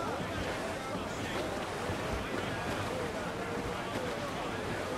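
A sailing ship at sea in Assassin's Creed 4 gives a steady rush of wind and waves, a broad continuous wash with faint creaks, while someone speaks German over it.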